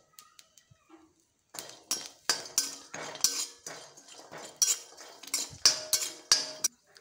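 Garlic cloves roasting in a pan, first quiet, then a run of sharp metallic scrapes and clinks as a spoon repeatedly stirs against the pan.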